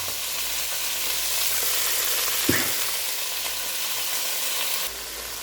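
Pineapple pieces fry and caramelize in a pan for sweet and sour pork, giving a loud, continuous close-up sizzle with one brief stir or knock partway through.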